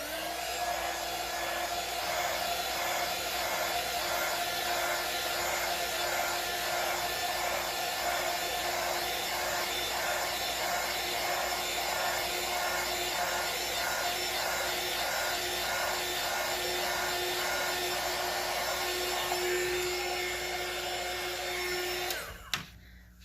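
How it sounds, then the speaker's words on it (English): A heat pen warms a glitter tumbler, giving a steady, even blowing hum with a faint whine that runs unchanged for about twenty seconds before cutting off with a brief click; close by and without talk. "next I'm gonna go in with my heat pen and I'm gonna heat it up real quick"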